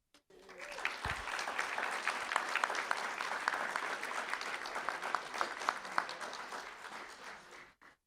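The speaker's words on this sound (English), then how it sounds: "Let's give him a round of applause." Sustained applause from an audience at a school board meeting, steady dense clapping for several seconds, rising quickly and fading out at the end.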